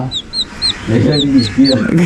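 Chickens cluck in quick, close bursts while thin high chirps repeat above them, all within a couple of seconds.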